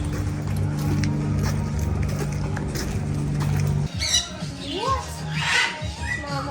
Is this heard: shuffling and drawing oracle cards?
no